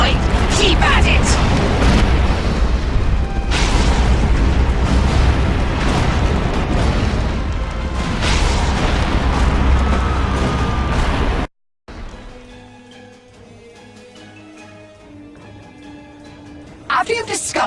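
Loud, continuous roaring explosions and crashing debris as a headquarters building is torn apart in the Destroy All Humans video game, then a sudden cut to quieter rumbling with a final burst.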